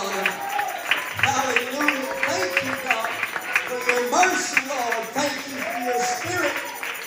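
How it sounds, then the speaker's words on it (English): A church congregation at a youth convention service claps in praise, a dense, steady run of hand claps filling the room while voices call out and speak over it. "Can we give Jesus a hand clap of praise?"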